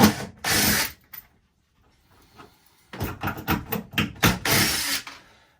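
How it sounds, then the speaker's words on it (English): Short bursts of a power drill whirring as it removes screws from a boat cabinet, one near the start and several more in quick succession later, separated by quiet pauses and small clicks. "At least I'm using a speed drill"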